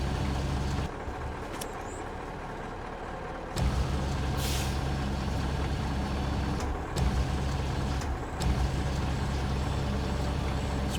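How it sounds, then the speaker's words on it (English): A truck in the off-road driving game SnowRunner gives a sharp air hiss as its parking brake engages, heard over a steady low engine idle, with a few short clunks and pneumatic bursts. "let's put the parking brake on"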